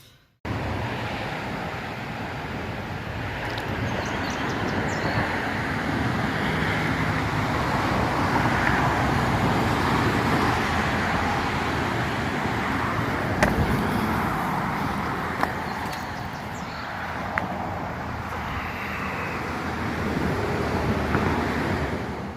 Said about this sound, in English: I'm in a Ford F-150.